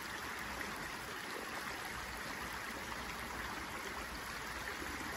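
Water rushes steadily over stones in a creek, a constant broadband babble at even loudness, with no voices.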